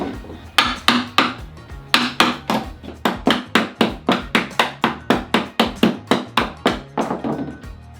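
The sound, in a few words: chiseling wood clamped to the side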